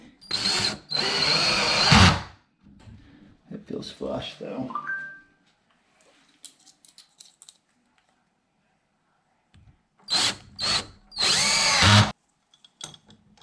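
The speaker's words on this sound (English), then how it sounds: "I have a clutch on this drill set pretty light." A cordless drill with its clutch set light whirs in loud bursts as it drives screws while installing a new door slab, pausing between runs, with quiet clicks and a brief spoken remark in the gaps.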